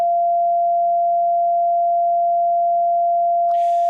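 A steady pure sine tone from an oscillator sounds continuously at one pitch, loud and unwavering, with a faint brief rustle near the end.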